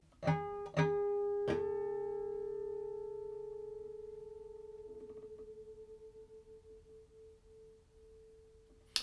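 Two guitar harmonics ring out after a few plucks, sustaining and slowly fading with a gentle wavering beat that settles as the pitch evens out.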